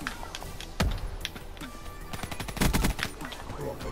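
Rapid bursts of gunfire from a multiplayer shooter game, with sharp loud shots near 0.8 and 2.6 seconds amid scattered quieter shots and keyboard clatter.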